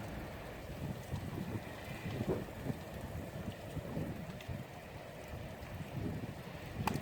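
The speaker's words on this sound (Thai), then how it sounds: "ได้ยินเสียงลมปะจ๊ะ" Wind blows outdoors on a snowy day, a steady broadband rush with gusting swells and buffeting against the microphone, fairly faint and continuous with no voices.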